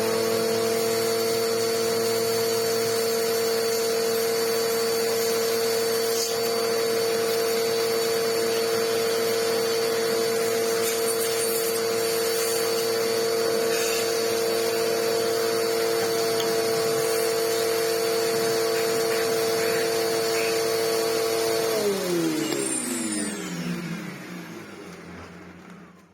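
A vacuum cleaner runs steadily while cleaning a small filter, a loud droning motor whine holding for over twenty seconds before spinning down as it is switched off.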